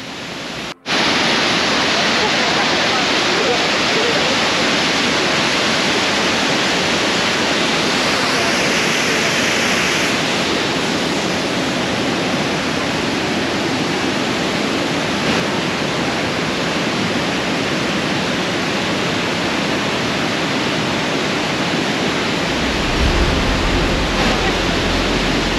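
Waterfall and creek at the Mina Creek ruins, a steady, loud rushing roar of falling water that runs unbroken and close for the whole stretch.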